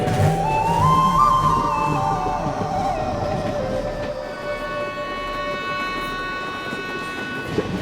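A passenger train rumbles along the rails, with a horn sounding in the first couple of seconds before the steady clatter and rolling noise continue alone.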